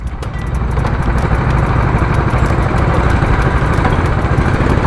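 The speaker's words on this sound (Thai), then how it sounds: "เดี๋ยวเรามาดูกันนี่เขาก็สตาร์ทประมาณนี้ง่าย ๆ ดึงขึ้น โอเค มันเครื่องตัดหญ้า" A go-kart's small pull-start engine, like a lawn mower's, runs close and loud at a track in Khon Kaen, a steady buzzing idle with a rapid putter throughout and no voices.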